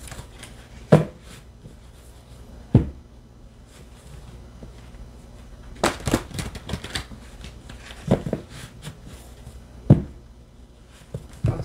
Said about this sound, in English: I'm just going to shuffle the cards a few times